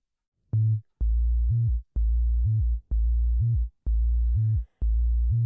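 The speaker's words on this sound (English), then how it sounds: "There's a sub bass here which sounds like this" Six deep synthesized bass notes pulse one after another at a steady pace, each heavy and sustained, with a brief silence before the first.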